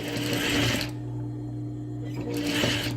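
A sewing machine stitches a gathered dress seam in two close bursts of rapid whirring, separated by a pause where only a low hum remains.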